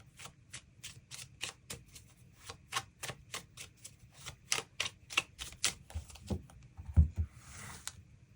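Tarot cards are shuffled by hand to draw an extra card, giving a quick, regular series of crisp riffling snaps up close, ending in a soft thud and brushing.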